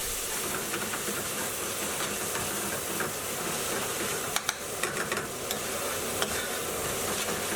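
Tomato paste sizzles and hisses steadily in a hot pan, with a few sharp scrapes and clicks of stirring cutting through the frying noise near the middle.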